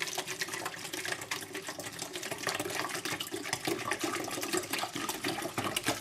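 Water pours steadily from a container into a 2-liter plastic bottle with its top cut off, a continuous gurgling, splashing trickle at close range with no talking.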